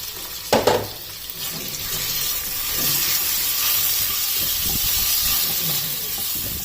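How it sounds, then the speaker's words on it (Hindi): Chicken breast strips go into hot oil with garlic and ginger in a pan, giving a sharp splash, then a steady, close sizzling hiss with small pops. "अब इसे इसमें वाइट होने तक फ्राई होने देना है।"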